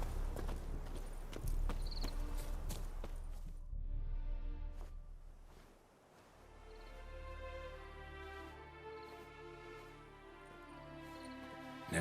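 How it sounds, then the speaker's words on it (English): Hooves clip-clop steadily as a horse walks in The Witcher 3, a regular rhythmic clatter of moderate loudness that briefly fades around the middle, with musical tones underneath. "Whoa there, Roach."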